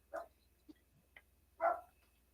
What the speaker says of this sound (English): What are you barking at out there, huh?